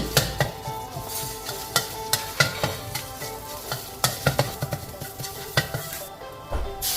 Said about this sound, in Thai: ผัดเขาให้หอมฉุนดีเลย